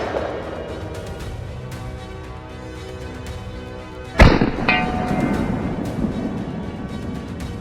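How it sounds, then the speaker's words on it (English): A single sharp rifle shot cracks out during a wild boar hunt, loud and sudden against a quiet outdoor background, with a brief echoing tail after it. "A precise shot, fast and clean,"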